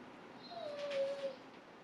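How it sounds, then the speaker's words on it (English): A dog lets out one thin, high whimper partway through, fairly faint against a quiet indoor room, with no talking. "He wants to probably play with Chloe or something, and she doesn't want anything to do with the dog."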